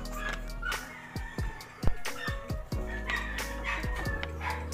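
A rooster, a gamecock in a cockfighting breeding yard, clucks in short repeated bursts close by, with other fowl calling and a dog barking in the background.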